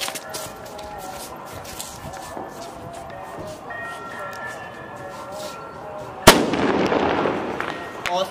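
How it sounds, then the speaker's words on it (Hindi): A Diwali nachi bomb firecracker goes off outdoors with one sharp, loud bang, then fizzes and crackles in a sustained spinning hiss that follows, with people talking beforehand. "एकदम खतरनाक आवाज थी नाची बम की"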